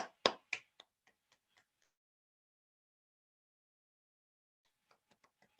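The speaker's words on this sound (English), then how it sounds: "I'm clapping my hands as well." Hands clap at a kids' English class, a quick run of sharp claps at the start that soon thins to lighter, sparser taps, then a pause of quiet before a few more soft claps near the end.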